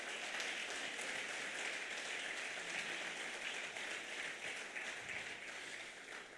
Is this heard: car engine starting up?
no